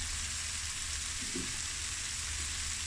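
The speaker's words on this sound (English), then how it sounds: "I'm just going to stir fry this for the next 5 minutes" Vegetables stir-frying in a pan for mango atchar fried rice give a steady, dense sizzle with a faint stirring knock midway and no voices.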